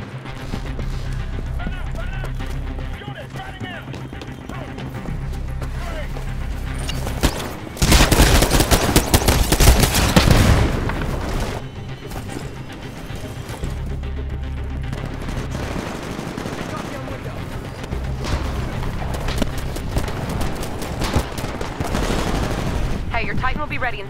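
Gunfire in the Titanfall video game crackles almost constantly in rapid automatic bursts, with a louder, denser barrage in the middle. Players talk excitedly over it.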